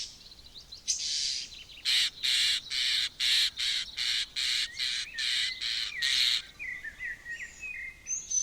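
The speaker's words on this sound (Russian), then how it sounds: "Растущие птенцы все время просят еды" Hungry nestlings in a tree hollow call for food in about ten loud, evenly spaced raspy bursts, with a few softer chirps before and after, heard close and alone.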